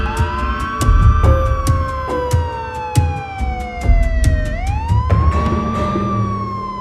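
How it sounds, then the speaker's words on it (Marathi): Police siren wailing at night on city streets in Solapur, a loud rising and falling tone close by, with periodic sharp clicks and traffic noise beneath. "अर्ध्या रात्री सोलापूरच्या रस्त्यांवर घुमणारा सायरनचा आवाज"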